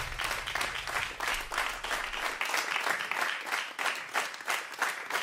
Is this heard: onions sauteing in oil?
no